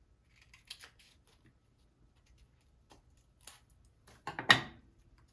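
Scissors cutting a small piece of 400 grit wet dry sandpaper, a few faint snips early, then a louder cluster of crisp cuts near the end, close and otherwise quiet.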